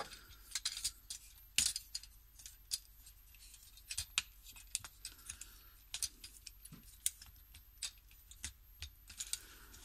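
Small plastic clicks, snaps and light rattles from folding the arms of a Titans Return Hot Rod transforming toy figure, scattered irregular taps close to the microphone, fairly quiet throughout with no talking.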